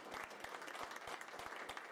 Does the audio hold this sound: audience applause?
yes